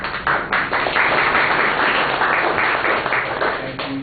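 Brief burst of audience clapping at a talk on energy-efficient residential buildings, dense and steady for a few seconds, then thinning at the end.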